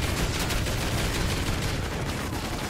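Sustained gunfire in the co-op alien-fighting mode of Call of Duty Ghosts Extinction, a dense, unbroken barrage of rapid shots that stays loud and steady throughout, with no voices over it.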